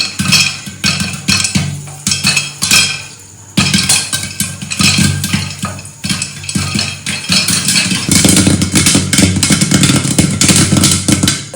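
Corn kernels pop inside a covered pan on a home stove, a dense, clattering stream of sharp pops that grows busier and louder toward the end.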